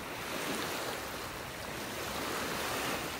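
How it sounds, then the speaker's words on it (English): Ocean waves break and wash onto a beach in North Naples, Florida, a steady, full surf roar that carries on without pause and with no voices over it. "If nothing else, just listen to the waves."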